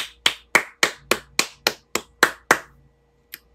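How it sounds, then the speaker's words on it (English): Close, crisp handclaps, about ten in a quick, even rhythm, stop abruptly. After a short silence one fainter clap follows. "Let's give a round of applause for good grades."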